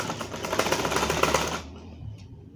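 A sewing machine stitches piping onto fabric for a collared kameez, a rapid close mechanical clatter that runs for about a second and a half and then stops, leaving near silence.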